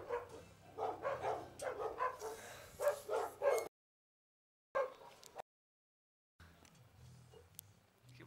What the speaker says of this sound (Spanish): Mira ese perro arriba del techo.